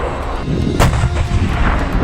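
A tank cannon fires in a conflict zone in eastern Ukraine, producing one loud, sharp blast inside a continuous rumble of heavy artillery, with no voices.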